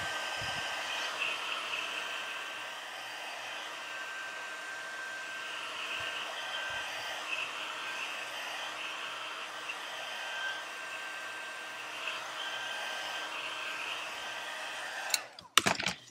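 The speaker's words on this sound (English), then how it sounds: "heat tool." A heat tool blows steadily over paint on a card, a continuous airy hum with a faint whine held at moderate level for about fifteen seconds, ending in a few clunks.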